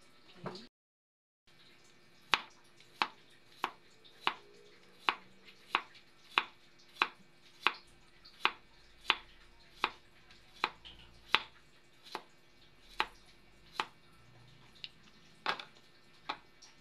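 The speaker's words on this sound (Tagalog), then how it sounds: "So, pagtsagaan natin na ganito ako maghiwa." A knife chops cucumber for a salad on a board in a steady series of sharp, close taps, roughly twenty evenly spaced strokes against a quiet background.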